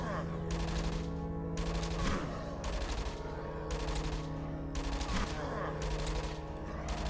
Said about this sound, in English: Mounted Grenadier. That sounds awesome.